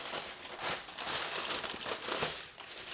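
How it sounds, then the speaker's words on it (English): Aluminum foil crinkled and folded around cooked beef short ribs, a continuous close crackling and rustling with a few sharper crunches, filling the whole moment without speech. "now we are going to get it wrapped up into the foil"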